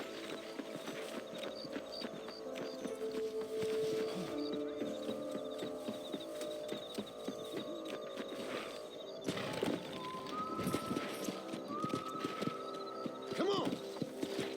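Horse hooves clip-clop at a galloping pace in Red Dead Redemption, a steady rhythmic drumming under a low ambient hum with occasional bird calls and short tonal accents toward the end.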